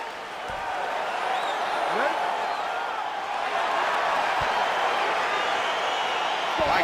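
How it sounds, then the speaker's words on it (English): A virtual arena crowd in EA Sports UFC 4 cheers and whoops as a fight begins, a steady roar of excited fans with scattered shouts and whistles, rising slightly toward the end. "crowd getting excited as this fight gets underway"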